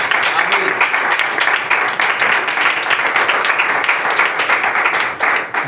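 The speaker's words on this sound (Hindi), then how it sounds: "अब तालियों की आवाज तेज होगी।" Church congregation applauding and clapping during a Palm Sunday service, a steady dense wash of many hands that stays loud and continuous throughout.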